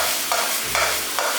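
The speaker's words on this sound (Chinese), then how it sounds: "来把皮蛋倒进去，翻炒均匀" Century eggs being stir-fried in a thickened sweet-and-sour sauce with cucumber and tomato, a few scraping turns of the spatula over a soft, steady sizzle, close and fairly loud.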